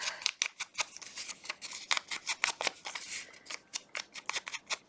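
Scissors snip through printed sticker paper in quick, irregular runs of crisp, close cuts, with brief pauses between bursts and no talking.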